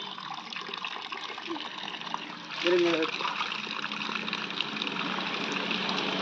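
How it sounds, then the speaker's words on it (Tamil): Water trickles slowly from a tap into pots during a low-pressure supply shortage caused by a power cut, a soft steady flow heard under people talking nearby. "இப்போ குறுகுறுன்னு தான் தண்ணி ஊற்றுது, வேறு வழி இல்லை."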